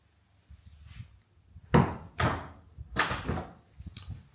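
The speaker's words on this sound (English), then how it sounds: "So this next door takes us into the bathroom." A wooden door into a bathroom opens, giving a few thuds and knocks of the door and handle spread over several seconds, close by with no talk.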